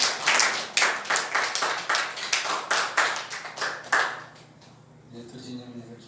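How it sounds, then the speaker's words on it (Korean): A church congregation at a Korean Sunday worship service claps in unison with a steady, loud, rhythmic beat of about two claps per second, then fades out with faint sounds behind it. "우리를 위하여 십자가를 지신 우리 주님께 이 시간 영광의 박수 올리겠습니다"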